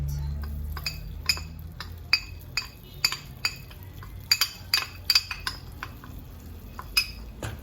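Butter and flour being stirred in a pan to make a thick paste, with repeated sharp metal clinks of a spoon against the pan in an irregular rhythm over a low background hum.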